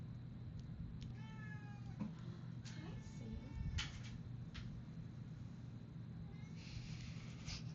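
A pet cat meows a few times during a podcast recording, the harmonic calls rising over a steady low room hum with faint background talk.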